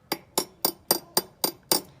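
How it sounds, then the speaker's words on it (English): A hammer tapping an object seven times in a steady rhythm, each blow a close, fairly loud knock with a lower, duller ringing tone that fades quickly, no voices. "if we hit it in the hammer"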